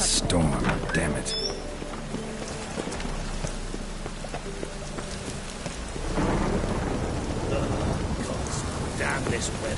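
A thunderstorm with heavy rain in the video game The Witcher 3, steady downpour hissing throughout with deep rolling thunder swelling near the start and again past the middle, and voices talking over it.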